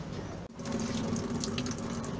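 Water rushes steadily into a washing machine through its hot-water solenoid valve, a continuous hissing, splashing flow that starts after a brief click and stays loud and close throughout.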